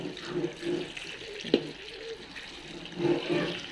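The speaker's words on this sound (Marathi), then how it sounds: "आता पाणी वतणार आहे आपण" Clean water is poured into a cooking pot in a home kitchen, with soft intermittent splashing and gurgling bursts and a brief knock.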